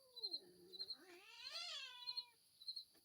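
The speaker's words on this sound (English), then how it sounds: "that little kitten don't like Libby" A kitten lets out one long, drawn-out, wavering meow that rises and falls. It is close and fairly quiet, with faint high chirps before and after.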